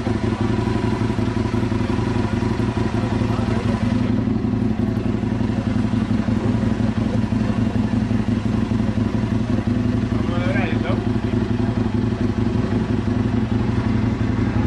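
A crowd of motorcycles at a large motorcycle meeting, a continuous dense rumble of many engines idling and revving nearby, with clatter and faint voices mixed in throughout.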